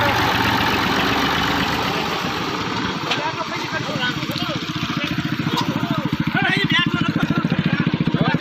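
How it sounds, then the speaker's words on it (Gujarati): A tractor engine idles steadily with a low, even rumble throughout, and people talk over it. "તમે ટ્રેક્ટર લઈને આવ્યા એટલે"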